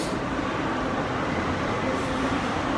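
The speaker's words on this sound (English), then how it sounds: "We're going on the subway." Steady rumbling roar of a New York City subway train in motion, a continuous broadband din that holds level without pauses for the whole stretch.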